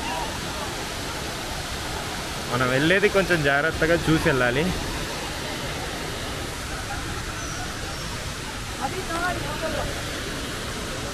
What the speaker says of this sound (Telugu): ఇదిగోండి ఇదే వాటర్ ఫాల్స్